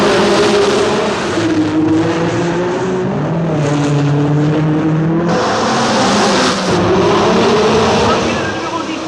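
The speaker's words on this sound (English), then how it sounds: "Now it's Sarti in the red Ferrari, number 17, leading, past the Hotel de Paris and into the Casino Square" A red Ferrari race car, number 17, in the 1966 Monaco Grand Prix, its loud engine screaming and shifting pitch as it climbs and falls through the gears past Casino Square, with a commentator talking over it.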